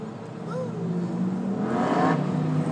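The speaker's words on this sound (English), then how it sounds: "Look at this biker gang coming." A group of motorcycles from a biker gang rolls past on the Las Vegas Strip, engines rising in a swelling roar that peaks near the end, with a person talking over it.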